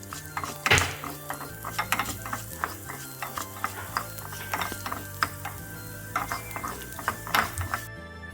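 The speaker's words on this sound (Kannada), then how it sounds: "1 ಟೇಬಲ್ ಸ್ಪೂನಷ್ಟು ತುಪ್ಪವನ್ನು ಬಿಸಿ ಮಾಡಿ ಅದಕ್ಕೆ ಮೆಂತೆ ಹಾಗೂ 3 ಟೇಬಲ್ ಸ್ಪೂನಷ್ಟು ಕೊತ್ತಂಬರಿ" Fenugreek and coriander seeds frying in hot ghee, a close crackling sizzle broken by repeated scraping and clinking of a spoon against the pan, with a steady hum underneath and no speech.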